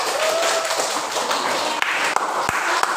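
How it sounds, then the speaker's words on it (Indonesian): Students in a classroom clap for a group that has just finished a biology presentation on global warming, a brief burst of scattered hand claps with some sharp individual taps among the noise. "kalau tidak ada kita beri aplaus untuk kelompok 4"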